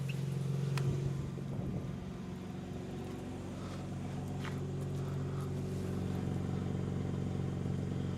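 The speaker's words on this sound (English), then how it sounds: "It's a pretty subdued idle, and that was actually with the exhaust baffles open." A 2026 BMW M2 CS twin-turbo inline-six idles outside with exhaust baffles open, a steady, subdued low rumble with a faint rhythmic burble, opening with a brief louder blip before settling into a smooth, even idle.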